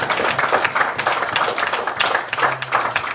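Church congregation clapping during a Sunday service, a dense sustained patter of many hands with a faint voice or held tone underneath, steady throughout.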